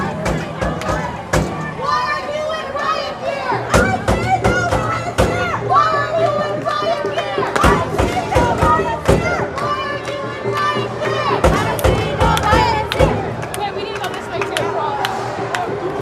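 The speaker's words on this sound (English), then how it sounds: "right now they are chanting" A street protest crowd against immigration enforcement in Manhattan, New York City, chants together in a dense, continuous roar of many voices, with sharp claps or bangs cutting through at intervals.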